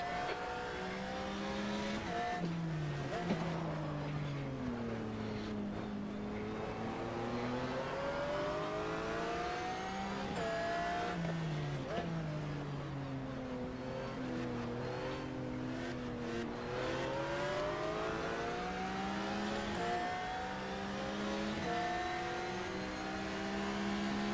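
Race car engines in a GTR2 endurance race scream and rise and fall in pitch as cars accelerate, shift and pass close by, a continuous loud drone with repeated sweeping gear changes.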